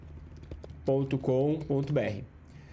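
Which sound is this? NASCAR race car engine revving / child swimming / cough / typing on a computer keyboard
typing on a computer keyboard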